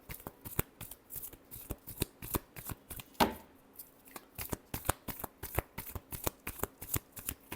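Tarot cards being shuffled by hand, with rapid rhythmic riffling and snapping bursts at close range, a louder riffle near the middle, and a quiet background.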